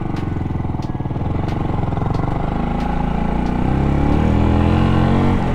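A Yamaha YZF R125 motorcycle engine drones steadily while riding, a close continuous mid-pitched hum that builds slightly louder toward the end with faint wind rush.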